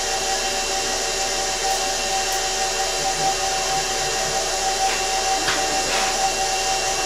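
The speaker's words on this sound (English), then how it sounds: "you guys might notice that I'm using a stand-up mixer" A stand mixer beats room-temperature butter with a steady, continuous motor whir and a constant hum, moderately loud and close, with faint clicks from the beater and bowl.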